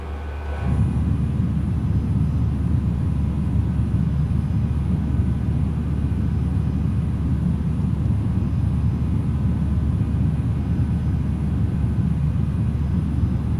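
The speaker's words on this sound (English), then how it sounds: "It's the exterior sounds that are killing my eardrums." Exterior engine sound of an A320 in the X-Plane 11 flight simulator: a steady loud low roar with a broadband hiss, unbroken and constant throughout, with no talk.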